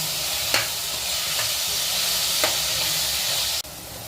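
Onions sautéing in a pan for prawn masala, a loud steady sizzle with a few stirring clicks, cutting off sharply near the end.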